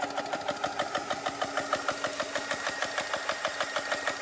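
A 4500 psi mobile air compressor runs with a steady, rapid rhythmic pumping beat, a close, even mechanical chugging that holds for the whole stretch with no talk over it.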